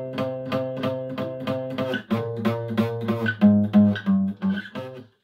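An electric guitar plays part of a riff: a steady run of short, repeated picked notes, some chords ringing longer, loud and close with no talking.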